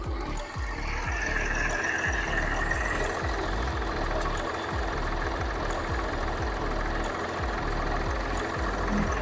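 A 2018 Hyundai Xcent Prime diesel engine idles steadily up close, a low rhythmic knocking clatter that runs evenly throughout with no voices.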